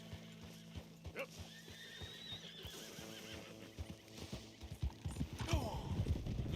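Horses in the Red Dead Redemption 2 video game clop along in a steady, brisk hoof rhythm while one lets out a loud neigh, wagon creaks and faint talk underneath.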